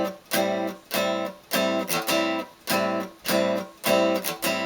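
Rhythmic strumming of a chord on guitar, sharp percussive strokes grouped in bursts with short gaps between, bright and close, no voices.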